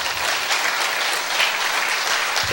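Steady audience applause in a church gathering, dense continuous clapping filling the whole stretch at a loud, even level with no voices over it.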